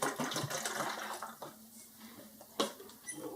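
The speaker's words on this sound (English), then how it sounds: "add a little water to it" Water pours into the tank of an AUKEY 3.5-litre ultrasonic cool-mist humidifier, a close splashing trickle that fades to a thin stream, ending with a brief knock of plastic.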